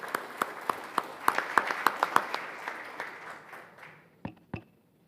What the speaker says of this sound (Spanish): Bienvenido, Jorge, este aplauso y damos la bienvenida nuevamente.